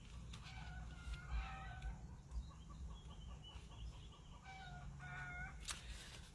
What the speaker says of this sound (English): The chickens are going to bed and making a big ruckus last thing.